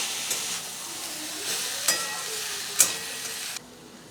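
Chopped vegetables with green chilli sizzling in a pan, a steady soft hiss with a few brief stirring scrapes and spits, fairly quiet and without talk.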